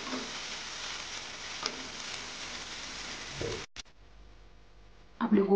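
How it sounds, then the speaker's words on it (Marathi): Cauliflower florets shallow-fry in a pan for restaurant-style gobi gravy, making a steady moderate sizzle that cuts out sharply near the end before a brief clatter. "हलकाच असं आपल्याला याला शॅलो फ्राय करून घ्यायचं आहे."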